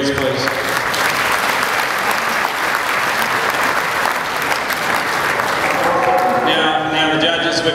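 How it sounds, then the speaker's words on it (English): A crowd at a cattle beef championship applauds the breeders in loud, sustained, dense clapping, thinning slightly near the end, with some voices mixed in. "So I just ask you a round of applause for all these breeders, please."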